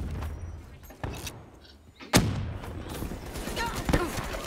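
Gunfire in the video game Black Ops 3: a few sharp shots, the loudest near the middle, with mixed game noise throughout. A voice talks over parts of it.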